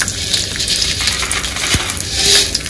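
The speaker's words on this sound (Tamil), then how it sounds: "கடுகு போட்டுக்கிறோம்." Mustard seeds hit hot sesame oil in a pan, setting off a loud, close, continuous crackling sizzle with scattered pops and no talk.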